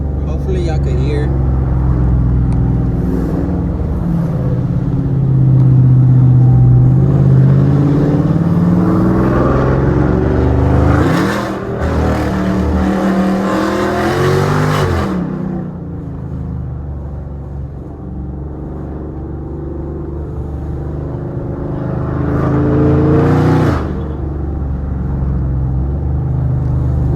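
Dodge Charger R/T with an aftermarket exhaust setup rumbling steadily while driving, a deep continuous drone that swells on acceleration around the middle and again near the end, with someone talking over it.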